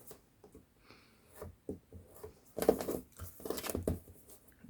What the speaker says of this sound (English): I'm going to score that side 1/2 inch